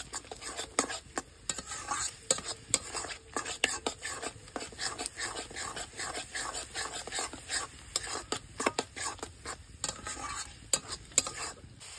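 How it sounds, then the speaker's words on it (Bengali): A spoon repeatedly scrapes and stirs a fish roe mixture in a wok, steady clicking strokes over a soft sizzle that runs throughout. "অনবরত নাড়াচাড়া করতে থাকবো, যাতে মিশ্রণটা না কড়াই লেগে যায়"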